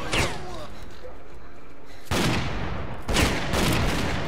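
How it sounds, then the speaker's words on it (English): Heavy gunfire against bandits in the shooter game S.T.A.L.K.E.R. Clear Sky, with loud booming volleys in separate bursts and a quieter stretch between them, no talk. "Just shooting the ever-living shit out of bandits."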